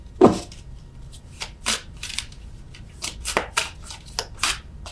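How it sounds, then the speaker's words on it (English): Tarot cards being shuffled by hand, heard as a sharp riffling burst at the start and then a run of brisk, papery flutters and snaps at close range, with no talk. "I'm terrible at shuffling these cards."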